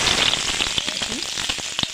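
Whole spices sizzle one after another in about a cup of hot oil in a pan, with a continuous close, bright frying crackle and small spitting pops throughout.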